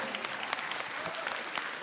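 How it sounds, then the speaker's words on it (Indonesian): Audience clapping for Khadijah at an Islamic religious gathering, a short burst of dense, fairly close applause with individual sharp claps popping out of the wash. "Tepuk tangan buat Khadijah."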